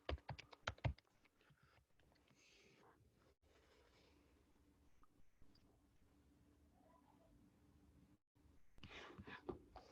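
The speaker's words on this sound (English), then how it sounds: "I'll just type asifanwar@shankarias.in." Someone types an email address on a computer keyboard, soft close key clicks in short bursts, faint and intermittent, with a few mouse clicks.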